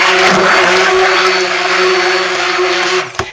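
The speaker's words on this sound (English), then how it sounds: "I still am not cocking the stick blender with this one. I'm keeping an up and down straight motion." A stick blender whirs loudly and continuously as it mixes thick lye soap batter for hot process soap, a steady motor whine that cuts off abruptly at the end.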